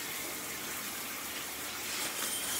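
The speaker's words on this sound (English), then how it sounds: "So anyways, I'm gonna take a good old hot shower." Hot water pours from a shower in a continuous, close rushing hiss that stays level throughout, with no one talking.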